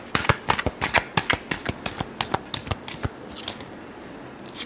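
Tarot cards being shuffled by hand, a run of quick crisp riffling snaps in close succession that thins out and stops partway through, with no talking.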